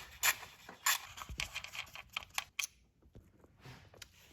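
Screws being removed from the ignition coil of a Jeep Patriot with a socket tool: a run of short, crisp clicks and ratcheting scrapes close to the microphone, growing quieter and sparser toward the end.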